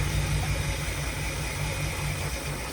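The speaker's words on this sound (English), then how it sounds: "It's idling too low." A 1959 Cadillac engine fitted with a new Edelbrock carburetor idles too low, a steady, close low rumble with constant hiss and no talking.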